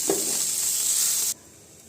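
Bitter gourd (kakarakaya) fries in hot oil with a loud, bright sizzle and a brief stirring scrape near the start, the frying then cutting off abruptly.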